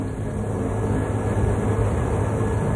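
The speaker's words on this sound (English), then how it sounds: "We continue now with our train ride up to the mighty Jungfrau." A mountain railway climbs toward the Jungfrau in Switzerland. A steady, continuous rumble of the moving train carries through the interior with no pauses and no talk.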